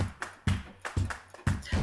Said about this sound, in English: This is an applause to celebrate that you did it.